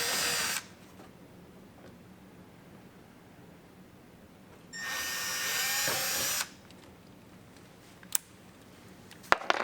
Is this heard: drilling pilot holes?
yes